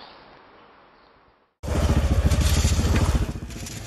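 A government-issue motorcycle hauling building materials along a narrow rural road: after quiet background hum, a loud engine suddenly starts up close with a rapid throbbing putter, then eases slightly.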